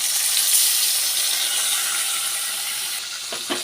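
Onion, ginger and garlic paste fries in a pan, a steady bright sizzle and hiss that holds for several seconds at moderate level, with a couple of faint clinks near the end.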